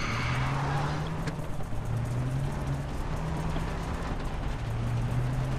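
A car drives in the video game Far Cry 3, its engine droning steadily with the pitch rising and falling as it accelerates, loud and continuous throughout.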